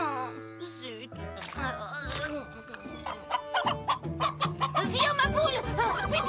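Animated chicken clucking and squawking in a cartoon, busy close clucks layered over music, with speech-like vocal sounds mixed in.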